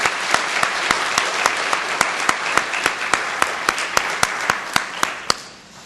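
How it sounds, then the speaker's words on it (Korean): Church congregation clapping in praise during a Wednesday worship service, a dense burst of applause with regular sharp, rhythmic claps standing out, loud and close, fading away at the end. "우리 하나님께 영광으로 박수 올리겠습니다."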